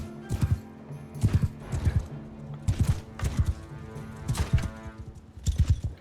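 Horse archers gallop through a large battle in the video game Mount & Blade 2, their hooves clip-clopping in loud repeated bursts of rapid beats, with an occasional whinny mixed into the busy combat ambience.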